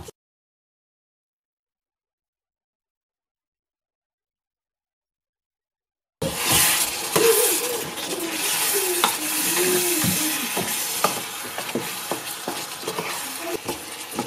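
Fish pickle cooking in a pan sizzles and is stirred after vinegar goes in, with scraping and clinking under a steady fry; the first six seconds are silent.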